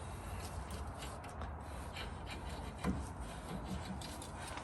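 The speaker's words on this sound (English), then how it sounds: "just wipe the outside face of the caliper's insides just to clean off that dirt" A cloth or hand rubs dirt off a brake caliper from a Ford F150 rear brake job, making a steady, close scrubbing sound with one faint clink partway through.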